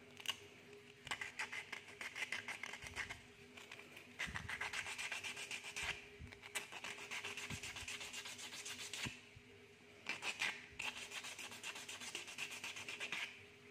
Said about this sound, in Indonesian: Amplas hingga tripleknya sama rata dengan bambunya